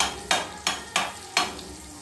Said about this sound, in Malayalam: ബട്ടറൊന്ന് ഉരുക്കാനായിട്ട് പാനിലേക്ക് വെച്ച് ഉരുക്കാനായിട്ട്